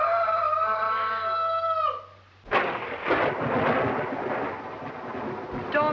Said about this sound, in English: Storm's just as bad as ever, isn't it?